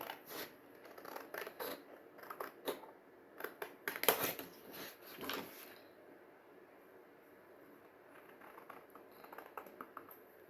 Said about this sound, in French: Allez, hop, on vient recouper ces deux morceaux ici.